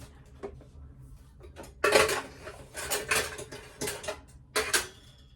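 Dishes, pots and pans are washed in a home kitchen, giving scattered metallic clanks and clatters in bursts, fairly close, some louder than others, with no speech.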